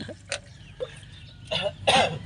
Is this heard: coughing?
yes